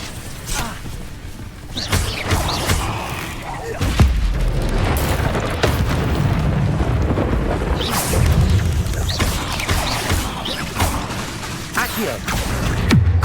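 Bombarda explosion spells from the Hogwarts Legacy video game burst in repeated deep booms and thuds over a dense, noisy battle mix, with a voice calling out spells among the blasts.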